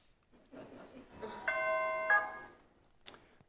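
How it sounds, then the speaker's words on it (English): A church bell rings out with a clear sustained tone, struck about twice and then fading, alone with no talk and a faint click near the end. "And I hear the second bell coming."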